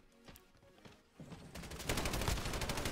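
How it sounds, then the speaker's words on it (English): PKM light machine gun firing in Modern Warfare: scattered single shots give way to a rapid, steadily building automatic burst that grows louder and denser toward the end. "all these light machine guns."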